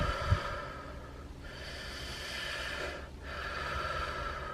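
Deep, slow breathing exercise, with a sharp nasal intake near the start followed by long drawn breaths and exhales, close and quiet with no speech.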